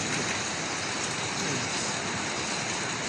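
Heavy monsoon rain pours steadily and without pause during a Friday morning downpour, a dense, even hiss of falling water filling the whole moment with no voices.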